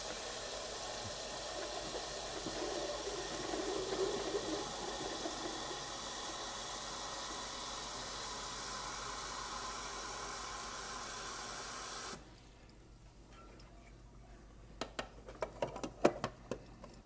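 A coffee maker brews while its reservoir is refilled, giving a steady rushing hiss of steam and water for about twelve seconds that then cuts out, followed by quiet scattered clicks and knocks.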